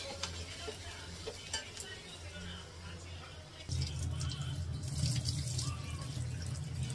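Dalia (broken wheat) is stirred in a pot, giving soft scraping and watery swishing that grows louder and fuller midway, close and steady, with faint background noise.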